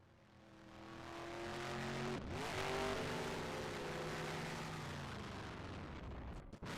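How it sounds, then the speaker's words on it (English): A race car in a racing game does a post-championship burnout: a loud, sustained engine roar with rising and falling revs and tire squeal, broken by a sharp cut near the middle and another near the end, with no talk. "Now KJ doing burnouts here after winning that championship trophy."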